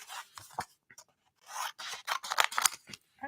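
Scissors snip through oversized craft paper, trimming its edge in short uneven bursts of close, crisp cutting and rustling, with brief pauses between cuts.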